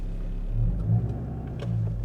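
A car pulls into a garage; its engine rumbles low and steady at close range, swelling slightly as it moves, with no talking.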